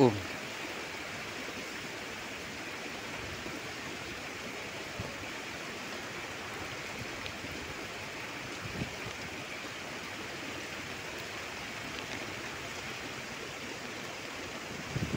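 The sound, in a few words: heavy rain falling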